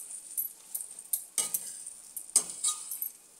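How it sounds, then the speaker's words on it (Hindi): Raw mango pickle spices stirred and roasted in a pan, giving soft scraping stirs with a faint sizzle and light clinks of a spoon against the metal, in a few short bursts. "थोड़ा सा आधी मिनट के लिए और पकाएंगे इसको।"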